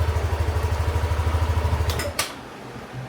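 A Yamaha Aerox V3 SP scooter engine idles with a rapid, even putter close by. After about two seconds it cuts off with a click, leaving quiet.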